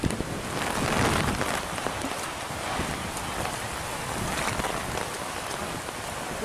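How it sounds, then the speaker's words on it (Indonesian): Heavy rain lashes down with strong gusting wind during an outdoor prize-giving at a final match, a dense, steady roar of falling water and buffeting wind noise against the microphone. "Pembagian hadiah hujan angin, bro."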